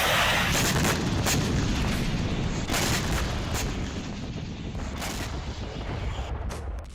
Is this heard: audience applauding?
no